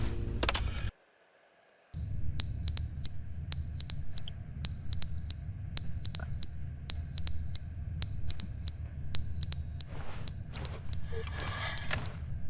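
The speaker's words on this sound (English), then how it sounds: "where's the alarm coming from?" Repeating electronic alarm in The Stanley Parable: Ultra Deluxe, a steady series of evenly spaced high beeps after a brief silence, loud and close, with faint background noise.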